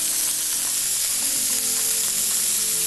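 Lamb pieces frying in a pot for a pea and lamb tagine, a loud dense sizzle that runs unbroken and close throughout, with faint stirring sounds and no talk.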